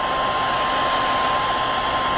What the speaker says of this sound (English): I decided to use a hair dryer to get it as warm as possible